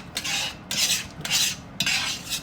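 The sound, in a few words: scraping and stirring the bottom of a pan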